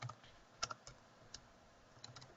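Quiet, close computer keyboard typing gives a scattering of light key clicks at an uneven pace, with one louder tap near the start.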